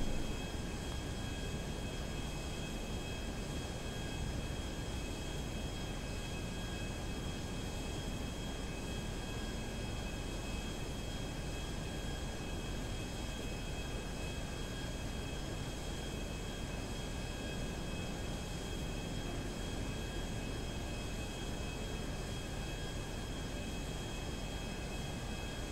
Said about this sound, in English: please fasten your seatbelts as we land at Los Santos Airport